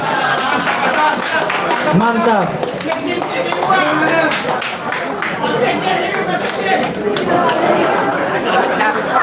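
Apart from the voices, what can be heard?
audience clapping and applause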